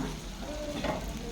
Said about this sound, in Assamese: প্ৰথমতে মই হাঁহ আৰু কোমোৰাখিনি খুব সুন্দৰকৈ ভাজি লওঁ